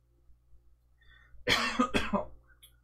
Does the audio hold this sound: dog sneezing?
no